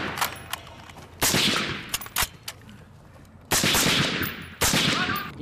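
Rifles fire in volleys on a military firing range during a special forces drill, with several loud, sharp bursts of overlapping shots and echoing tails, separated by short pauses.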